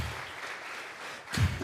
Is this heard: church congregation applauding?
yes